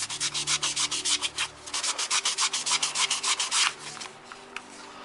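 Hand sanding of dried filler on a prop Star Trek phaser: a close, loud, rhythmic rasp of rapid back-and-forth strokes, about two per second, easing into a few scattered scrapes at the end.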